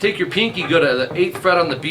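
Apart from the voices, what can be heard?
None of the usual background noises is heard.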